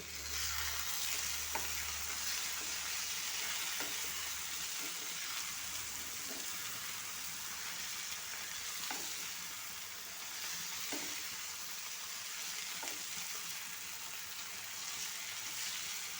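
Chicken frying in oil in a pan, a steady hissing sizzle with occasional soft scrapes and knocks of a stirring spoon spaced every second or two, moderately quiet and close.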